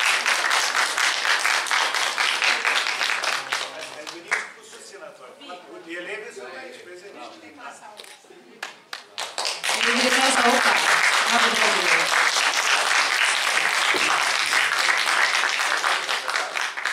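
Applause from the hall at a rural-education excellence gala near Fălticeni honoring teachers: a burst of clapping, a voice speaking briefly over quieter sound, then a second, louder wave of sustained applause.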